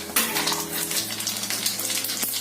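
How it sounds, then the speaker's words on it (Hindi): Mustard seeds sizzling and crackling in hot oil for a tempering, a loud continuous hiss with scattered pops, close by and with no talk. "गर्म होते ही सबसे पहले हम उसमें राई का तड़का देंगे।"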